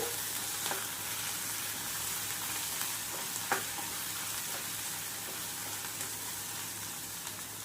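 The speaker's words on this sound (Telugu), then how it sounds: "పచ్చిమిరపకాయలు కొన్ని మినప్పప్పు కొంచెం కరివేపాకు ఇవన్నీ బాగా వేగనివ్వండి" Green chilies, urad dal and curry leaves fry in hot oil, giving a steady, even sizzle with a few faint pops and light stirring clicks at close range, with nobody speaking.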